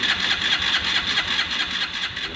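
A motorcycle engine, its fuel system recently dried out and empty, cranks steadily without catching, a loud, close, even churning rhythm that keeps going for the whole stretch with no talk over it.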